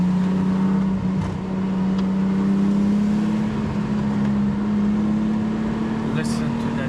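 Nissan Skyline GTT engine accelerating on a mountain road, heard from inside the car as a loud, steady drone that climbs slowly in pitch throughout, with a brief dip early on and no speech.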